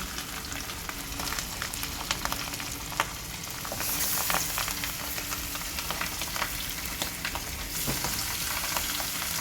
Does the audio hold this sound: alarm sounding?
no